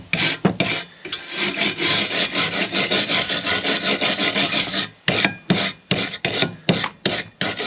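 Furnace parts being scrubbed clean by hand, a steady loud abrasive rasping that runs for several seconds, then breaks into short separate strokes near the end.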